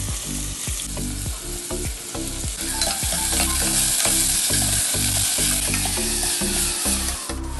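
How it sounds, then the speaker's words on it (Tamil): Finely chopped onions sautéing in hot oil with fennel seeds in a cooker, a loud close sizzle broken by regular scraping strokes of a stirring spoon against the metal, steady rhythm throughout with no talk. "நம்ம பொடிசா நறுக்கி வச்ச வெங்காயத்தை இதோட போட்டு நல்லா வதக்க ஆரம்பிச்சிடலாம்."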